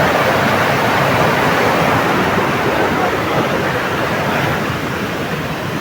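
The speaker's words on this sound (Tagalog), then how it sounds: "So, ang lakas ng sapa tol." A strong stream rushes with a steady, loud, broadband roar of flowing water that stays constant throughout, with no other sounds standing out.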